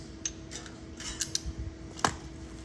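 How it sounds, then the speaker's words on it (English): Scissors snip through material while shaping a 4-piece 90, a few sharp, close cuts scattered irregularly over a quiet background, with no talking. "Cut this corner a little bit"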